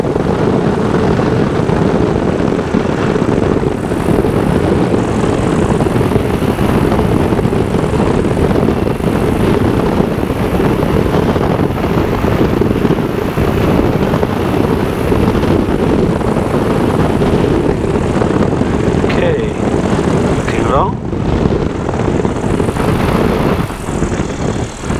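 The engine of an SSDR microlight aircraft drones loudly and steadily in flight, a continuous close roar with propeller buzz that barely changes throughout.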